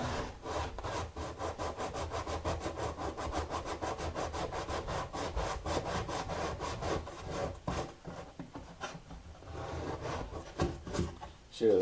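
Sandpaper rubs back and forth against a guitar's wooden scalloped brace in quick, even strokes, a close, dry rasping rhythm that slows and turns irregular toward the end.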